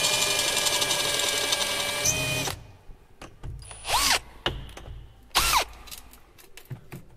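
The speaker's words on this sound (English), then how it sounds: "He's drilling out the rivets for the data plate tag." A power drill drills out rivets on a tracked loader's data plate, whining steadily, then stopping; two short bursts of drilling follow with pitch dropping as they bite, separated by quiet handling noises.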